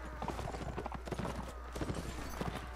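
Horse hooves clip-clop in a fast, uneven patter during a medieval battle in Mount and Blade: Warband, faint and continuous under a low steady hum of game ambience.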